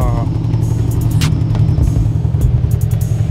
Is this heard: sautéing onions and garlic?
no